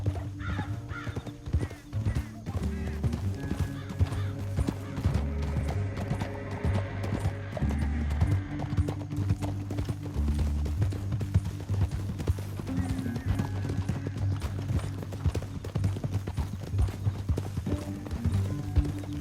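Horses' hooves clip-clop steadily and rapidly in Red Dead Redemption 2, several animals galloping together through a canyon under a low musical score, continuous throughout with no talking.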